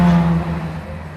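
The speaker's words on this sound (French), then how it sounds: "La voiture." A car passes nearby, its engine and tyre noise strongest at first and then easing off quickly as it moves away, with no talking.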